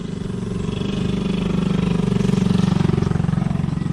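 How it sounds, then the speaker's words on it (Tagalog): A Honda XRM 125 motorcycle set up for enduro use runs with a loud, close, steady engine chug whose pulsing rhythm builds slightly over a few seconds, with no talking. "Itong gamit ko ngayon ng motor."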